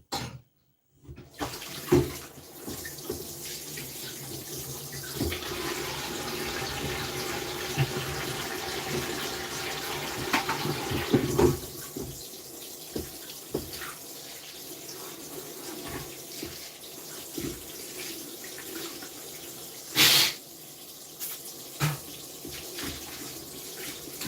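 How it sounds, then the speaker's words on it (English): Water tap running while a fish filleting tray is washed up: steady rushing and splashing from the tap, with clatters and knocks of the tray and a loud splash near the end. "You just wash the tray up, the filleting thing up"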